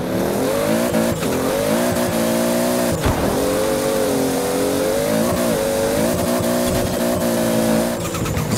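A car engine with a big single turbo roars at steady high revs in Forza Horizon 4, loud and continuous with brief shifts and tire chirps, no talk.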